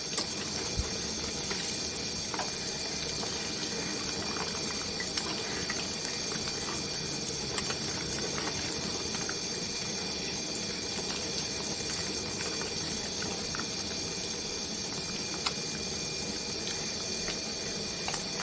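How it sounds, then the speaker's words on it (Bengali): Eggs fry in hot oil with turmeric and salt, a steady, even sizzle and hiss that runs unbroken at moderate distance with no talking. "এরপর আমরা ডিমগুলিকে এই ইয়াটাতে ভেজে নেব, একটু লাল করে ভেজে নেব।"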